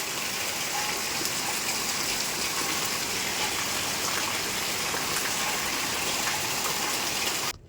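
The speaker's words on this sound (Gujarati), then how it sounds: "મુશળધાર વરસાદ" Heavy torrential rain pours down steadily as a dense, loud, continuous hiss and patter, filling the whole scene without any voices before cutting off abruptly at the end.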